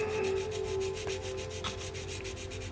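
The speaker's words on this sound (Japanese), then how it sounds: "こういうとこは1500番の耐水ペーパーを使います。" Rubbing strokes of 1500-grit waterproof sandpaper wet-sanding a recessed area beside the rear spoiler of a Tamiya 1/24 Fairlady 300ZX Turbo model car body, a steady, soft, close scraping hiss running continuously.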